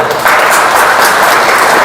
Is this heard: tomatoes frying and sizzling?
no